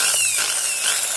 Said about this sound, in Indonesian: Jadi pas ngebor,